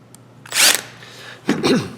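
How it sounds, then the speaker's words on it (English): A deburring tool scrapes a burr off a metal edge, two short rasping strokes close by, separated by a brief pause, in an otherwise quiet workspace. "Just going to take the burr off here."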